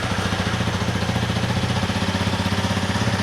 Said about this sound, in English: so now what we're going to do is we're going to start the bike